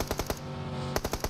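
Rapid automatic gunfire in a shooting video game, a burst of about four shots, a pause with lingering echo, then another quick burst of four, loud and close with no talk.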